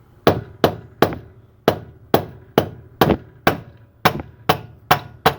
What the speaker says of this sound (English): Rubber mallet.